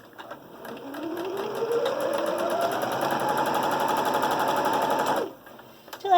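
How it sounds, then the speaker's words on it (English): A sewing machine stitches a fabric face mask in one continuous run of about five seconds, its motor rising in pitch as it speeds up, with a rapid needle clatter close by. "put my foot pedal down, and go ahead and sew it in"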